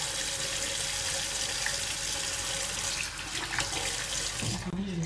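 Hot water runs steadily from a tap into a sink, a continuous close splashing rush that holds for the whole stretch, briefly shifting in tone near the end.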